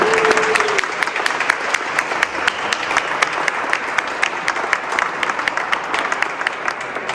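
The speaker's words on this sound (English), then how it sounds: "I think we should give them a round of applause to show our appreciation" An audience at a mental health leadership event gives a round of applause, many hands clapping steadily and crisply at moderate distance, sustained without talk.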